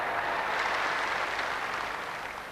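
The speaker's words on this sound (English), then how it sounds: "Now listen to the applause for this man." Stadium crowd at the Commonwealth Games in Auckland applauding veteran New Zealand miler John Walker after the 1500m final, a broad, steady wash of clapping and cheering at moderate distance that eases slightly toward the end.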